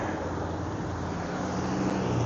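A car passes on a road during a bike ride, a steady broad roar of tyres and engine rising slightly toward the end, heard alone without talk.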